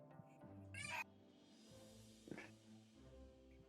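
A cat meows in a short, bright burst close to the microphone, with a second fainter cry about a second later, over a steady low hum and quiet background murmur.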